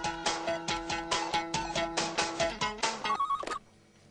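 A telephone rings in a fast, regular trill of bell-like pulses for about three seconds, then cuts off abruptly.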